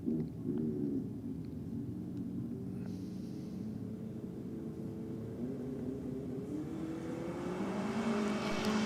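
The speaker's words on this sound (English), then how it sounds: "Big smoky burnout this time." An old Toyota ute doing a smoky burnout, its engine droning at a steady rumble and then climbing in pitch as it revs harder toward the end.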